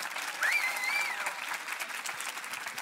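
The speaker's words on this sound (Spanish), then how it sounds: "Denle fuerte el aplauso al Señor." Congregation at a church youth camp applauding together, a steady mid-level wash of clapping lasting the whole stretch, with a faint whistle or cheer rising briefly near the start.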